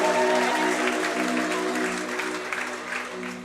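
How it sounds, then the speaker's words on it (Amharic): A congregation at an Amharic worship night applauds, loud sustained clapping over a lingering sung or keyboard drone that fades gradually. "ጭብጨባ ሰሙ ለዚህ ጌታ።"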